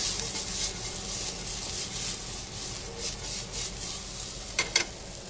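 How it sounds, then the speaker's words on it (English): A spoon stirs breakfast with cinnamon in a pan, giving a steady scraping, rubbing texture with faint sizzling and a couple of sharp clinks near the end. "Stir this a little bit."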